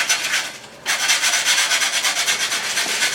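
Metal file or rasp scraping sharp edges off a steel motorcycle bash plate, rhythmic back-and-forth rasping strokes, close and steady after a brief pause near the start.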